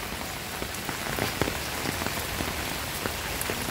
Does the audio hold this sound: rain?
yes